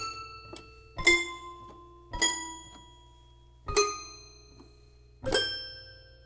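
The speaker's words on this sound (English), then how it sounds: "We'll hear the squelches again on the synthesizer." Synthesizer squelches set off by a KOMA Field Kit envelope follower: four sharp, bright pitched hits with ringing resonant overtones, spaced about a second apart over a low steady hum, each decaying quickly.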